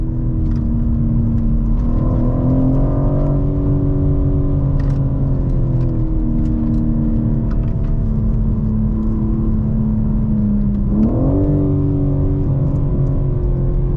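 A 2022 BMW M4 Competition G82 with rear-wheel drive is driven hard in manual mode on the harshest shift setting, its engine revving up through several gear changes with a steady loud rumble and no talk.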